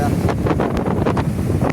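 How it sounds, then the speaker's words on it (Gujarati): Sea waves churning against wind buffeting the microphone, with heavy rumbling water noise and gusty bursts throughout, close and loud. "મોજા કેવા મોટા મોટા આવે"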